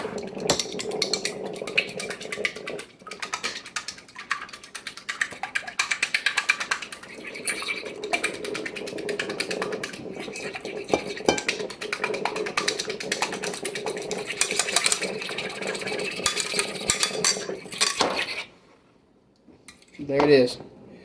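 Rapid clinking of a fork or whisk beating eggs in a bowl for venison schnitzel, a busy rattling scrape that runs for most of the stretch, then briefly stops near the end.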